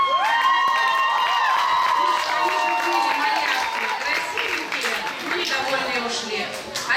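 A hall audience at a children's camp arts contest applauds steadily while children shout and cheer and voices chatter over the clapping throughout.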